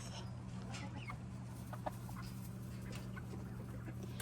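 Light Brahma chicks giving soft, scattered clucks and peeps over a constant low hum, faint and slightly distant.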